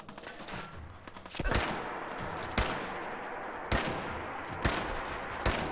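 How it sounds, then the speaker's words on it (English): In Fallout 4, a raider fires a series of sharp gunshots spaced a second or so apart over a steady background din, each report clear and fairly close. "Wait, who's shooting me?"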